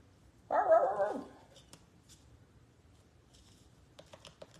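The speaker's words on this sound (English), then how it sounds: "the dogs are letting the neighbors know." A dog gives a single fairly loud bark at a distance, followed by quiet background with faint tapping.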